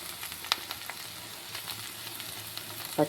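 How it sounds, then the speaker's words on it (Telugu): Broad beans frying in a pan, a continuous soft sizzle and crackle close by, with a couple of sharper clicks of a utensil turning them, no voices. "బ్రౌన్ కలర్ వచ్చేంతవరకు నేను ఇది ఫ్రై చేస్తాను. మధ్యలో తిప్పుతూ ఉంటాను."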